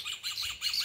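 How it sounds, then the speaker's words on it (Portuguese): Small birds chirp in a quick series of bright, repeated tweets, fairly close and clear with nothing else over them. "Os passarinhos felizes."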